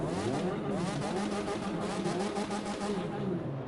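A legendary Fast and the Furious car's engine in the racing game The Crew 2 rumbles loud and continuous, holding a heavy, throaty idle-to-rev drone from start to finish.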